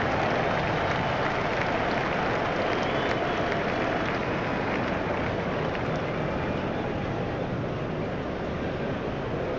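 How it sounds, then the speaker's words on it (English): A stadium crowd in the Cricket 07 video game, set at a Test match at Lord's, cheers and applauds in a loud, sustained, dense roar that continues without a break. "Crowd were brought to their feet by that shot."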